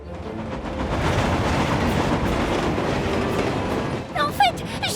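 An animated train from a children's Thomas cartoon rolls along the track with a steady, loud rumble and rhythmic clatter for several seconds, ending in a short burst of brighter sounds near the close.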